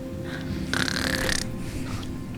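A person imitates snoring with the voice, one rough drawn-out snort in the middle of a low steady background, close and fairly loud.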